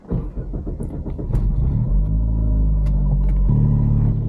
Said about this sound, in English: we're going to start it up now and drive the car for the first time with the new clutch